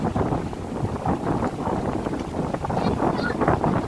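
Wind blows across a roadside beach at Ulee Lheue in Banda Aceh, a steady broadband rush with gusty swells that is continuous throughout, with faint voices mixed beneath it.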